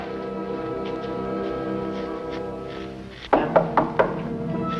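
Four sharp knocks on a wooden door, loud and close, rapping in a quick, slightly uneven rhythm over a steady musical background in an old radio crime drama.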